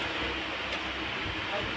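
A passenger train runs along the railway line from Araku to Visakhapatnam, its steady broadband rumble and rattle continuing evenly and fairly loud for the whole moment without any clear breaks.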